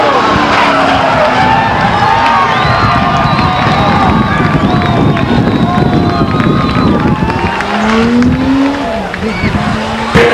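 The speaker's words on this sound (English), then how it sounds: "Another spin for Teresa Morton in turn 1" Race cars roar and skid around the Stockton 99 Speedway oval as one spins out in turn 1, with loud engines, tire squeals and a crowd behind a commentator's voice throughout.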